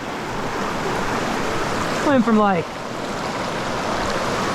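A small fly-fishing creek in Idaho flows with a steady, broadband rush of water throughout, loud and close, while someone speaks briefly over it partway through.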